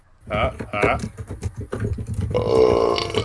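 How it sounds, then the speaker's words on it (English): A loud, drawn-out burp rings out near the end, right after a stretch of talking, during a casual podcast-style conversation. "Oh, there's a burp for you, folks."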